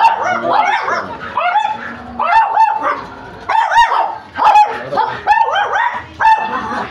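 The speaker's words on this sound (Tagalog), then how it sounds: "Kahit sa alaga sila, ang dami nilang aso." A pack of dogs kept at a home during a town fiesta in Lipa, Batangas barks and yips in overlapping bursts, loud and close, with several dogs sounding at once across the whole stretch.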